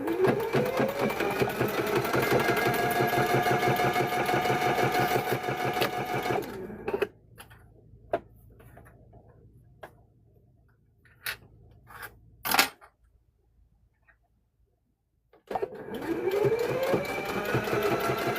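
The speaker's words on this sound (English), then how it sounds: "Okay, so we're going to stitch this" A sewing machine stitches a cow-patterned quilt square in a long, steady mechanical whir for about seven seconds, stops for a stretch of quiet with small clicks and handling, then starts again with a rising motor whir.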